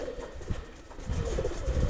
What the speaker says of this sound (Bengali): আমার কবুতরগুলো সামনে চলে আসছে